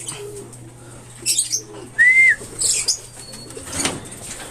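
Pigeons flap their wings in short bursts, loud and close by, with a few chirps and a faint low hum in the background.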